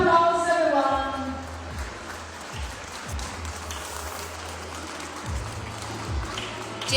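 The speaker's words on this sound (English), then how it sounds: "So please give a huge round of applause, everyone." An audience applauds at a stage event, a broad, steady wash of clapping at moderate distance, with a brief sustained tone fading out at the start.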